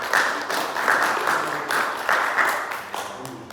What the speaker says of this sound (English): Okay, round of applause to him.